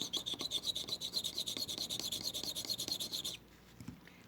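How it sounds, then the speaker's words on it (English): Jewelry piece rasped back and forth on a test plate while checking for silver and gold, a quick steady scratching rhythm close by that stops abruptly, leaving quiet. "set that on my plate there while I get the scratching ready"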